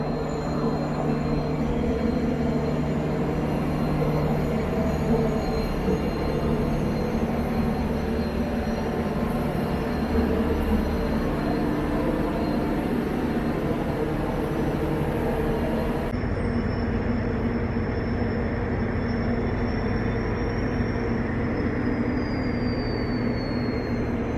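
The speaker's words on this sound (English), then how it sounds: "There goes Tirunelveli Dadar Express." The Tirunelveli Dadar Express passenger train rumbles past on an Indian railway line at dusk, a continuous loud roll of wheels and carriages lasting throughout, with a faint horn-like whistle tone drifting overhead.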